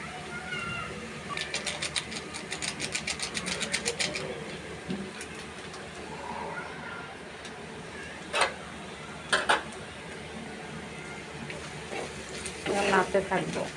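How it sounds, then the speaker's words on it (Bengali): Vegetables for a noodle dish, including half-boiled carrot, fry gently in a pan on low heat, making a quiet continuous sizzle with occasional clinks and scrapes of utensils against the pan. "এখন এটা আমি জাল আঁচ কম করে ভাজতে থাকবো।"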